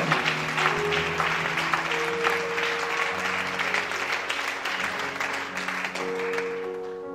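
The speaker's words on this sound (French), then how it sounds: "Acclamons Jésus pour cette confirmation" A church congregation applauding and acclaiming Jesus during a testimony service, sustained clapping from many people over a sung, music-like tonal backdrop, steady and fairly loud throughout.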